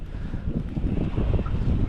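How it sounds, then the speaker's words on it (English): Strong wind gusts across Lough Derg during a St. Patrick's Day boat fishing trip in Ireland, a loud continuous rumble and buffeting against the microphone with no voices. "Wind is picking up now."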